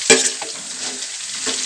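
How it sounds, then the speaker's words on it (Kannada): Onions with green chillies frying in hot oil give a steady close sizzle, broken by a few sharp scrapes of a spatula against the pan. "ಈರುಳ್ಳಿ ಚೆನ್ನಾಗಿ ಫ್ರೈ ಆಗಬೇಕು."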